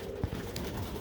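Pigeons cooing softly among kit birds and breeding pairs in a loft, a low throaty coo standing out briefly amid a steady murmur of bird sounds.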